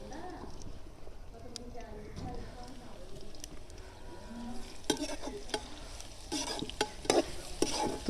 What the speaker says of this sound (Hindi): इसको अच्छे से फ्राई 2 मिनट तक अच्छे से लहसुन के साथ प्याज को भून लेंगे।